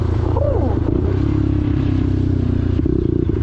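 A Lexmoto LXR 125cc motorcycle engine hums steadily while riding at night, a continuous low drone close to the rider, with a person talking over it throughout.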